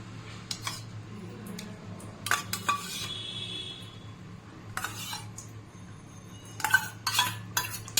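A metal spoon clinks and scrapes against a bowl in short scattered bursts while sour yogurt is spooned in, close and fairly quiet between strikes.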